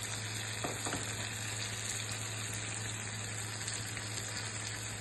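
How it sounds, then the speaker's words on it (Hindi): Ground masala sizzling and frying in oil in a frying pan, a steady dense crackle with a low constant hum beneath and a few brief stirring clicks, no talking. "उसी फ्राई पैन में तेल डालेंगे, इस मसाले को अच्छी तरह से तल देंगे।"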